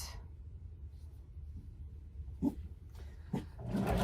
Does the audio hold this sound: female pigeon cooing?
no